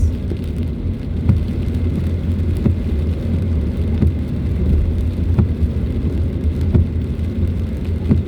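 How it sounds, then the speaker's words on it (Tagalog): Rain falls steadily on a moving car in Metro Manila during a storm, a dense continuous patter over a low road rumble, with faint sharp drop ticks recurring throughout. "Ganito ang ano ng Metro Manila, umuulan."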